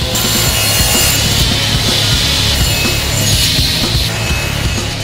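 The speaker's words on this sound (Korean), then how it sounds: "조립을 마치고 나면 모서리의 면을 부드럽게 만들기 위해서 기계로 갈아준다." A grinding machine smooths the edges of assembled wooden furniture in a busy workshop, producing a loud, continuous abrasive whir and rasp against the wood, with no talking.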